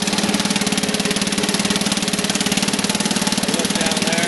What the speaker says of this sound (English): It's still a pretty nice little engine.